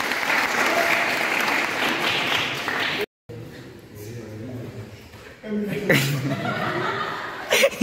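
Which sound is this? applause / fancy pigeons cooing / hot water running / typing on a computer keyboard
applause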